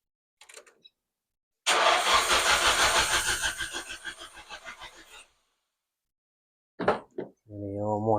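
A car cranking after its idle air control valve was cleaned, a few seconds of loud rhythmic starter churning that fades without catching, followed by brief voices.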